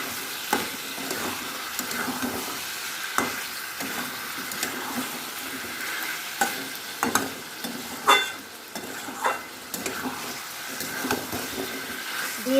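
Chicken and spices are stirred in a hot pan, with a spoon scraping and pushing through the sizzling mixture in uneven strokes over a continuous frying hiss.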